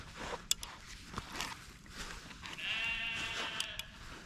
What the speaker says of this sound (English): Better drink this before the sheep come and get me.